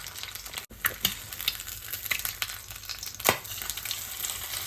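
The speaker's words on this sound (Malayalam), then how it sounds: "അപ്പം നമ്മുടെ മുട്ട ഒരു സൈഡ് ജസ്റ്റ് ഫ്രൈ ആയിട്ടുണ്ട്" An egg fries in a pan with a steady crackling sizzle, broken by a few sharper clicks and scrapes as it is turned, heard close and alone.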